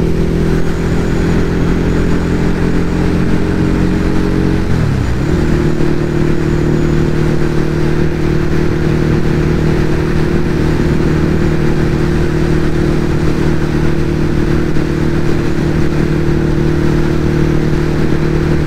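Ducati Hypermotard 821 motorcycle riding on the road with a steady, loud engine drone that dips and recovers briefly as it changes speed, then holds a constant hum alongside wind noise.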